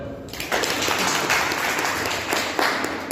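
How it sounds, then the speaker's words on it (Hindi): Audience at a business meeting in India breaks into sustained applause, a dense wash of many hands clapping that swells after a brief quiet opening and holds steady to the end. "तो सुन बैठो, तालियां तो बजाओ।"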